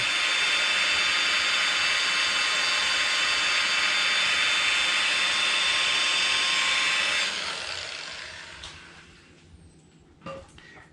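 A polishing machine buffs a gloss black car B pillar, giving a steady loud whirring hiss that runs for about seven seconds, then winds down and fades, with a brief faint knock near the end.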